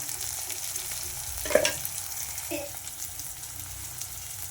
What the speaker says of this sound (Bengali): পেঁয়াজ রসুন সব ভালো করে ভাজা হয়ে গেছে তারপর আমি এতে দিয়ে দিচ্ছি টমেটোটা